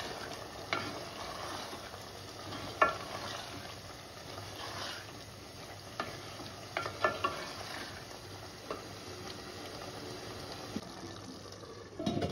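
Peas are stirred into aloo keema in a pan, giving a soft continuous sizzle with scattered scraping and clinking from the stirring, close and moderately quiet, with no talk.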